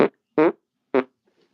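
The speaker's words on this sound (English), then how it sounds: "Fart is a natural occurring thing." Three short, loud fart sounds come in quick succession, close and alone with silence between them.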